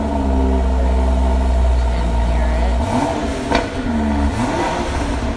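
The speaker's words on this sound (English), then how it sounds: "start up the X6, which is just an M Sport 6-cylinder, but it still sounds nice." A BMW X6 M Sport six-cylinder engine revs up close, one sharp blip climbing and falling back, then a second rising rev, over a steady idle rumble.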